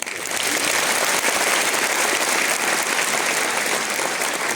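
Seminar students clap harder and louder, a thick, continuous roar of many hands that quickly builds and holds at full strength throughout, with no talking over it.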